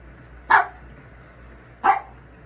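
A pet dog, a female, gives two short sharp barks about a second apart, fairly close and alone over a quiet background hum.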